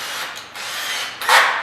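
Cordless drill clutch slipping with a fast ratcheting clatter that runs steadily and swells louder near the end, close up and alone.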